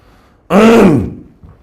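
One loud, close throat clearing, a rough voiced rasp lasting about half a second, with quiet before and after.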